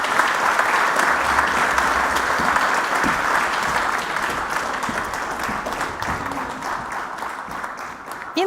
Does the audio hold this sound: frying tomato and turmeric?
no